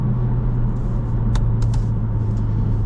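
A Honda Civic Si driven hard, its engine droning steadily and loud under a strong low road rumble, with a few brief sharp clicks partway through and no voices.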